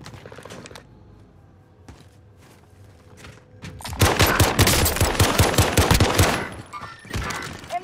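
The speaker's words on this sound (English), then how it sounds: "I'm getting shot from containment or the guy placed right across the street from us" Rapid video-game gunfire erupts in a dense, loud automatic burst after a few scattered earlier shots and footsteps, close up and dominating the scene.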